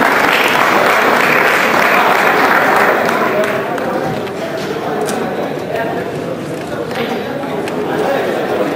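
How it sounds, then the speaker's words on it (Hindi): An audience at an honoring ceremony claps steadily, the applause mixed with voices and chatter and easing slightly toward the middle. "जोर तालियां दीजिए इनके लिए भी।"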